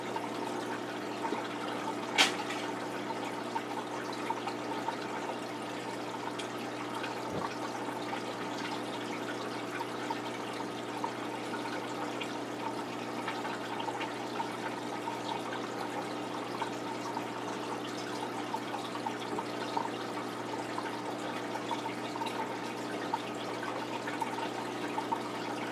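Aquarium water from a gudgeon tank siphons through a hose into a shower-stall tub during a water change, a steady, faint trickling and gurgling flow that continues alone throughout.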